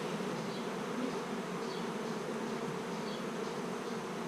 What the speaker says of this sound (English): Bees are angry.